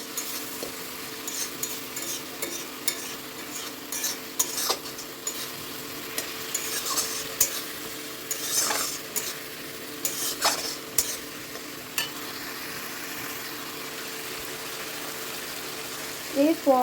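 Vegetables stir-fried with sugar in a pan for khichuri, a soft continuous sizzle broken by repeated spatula scrapes and taps against the pan, close and fairly even throughout.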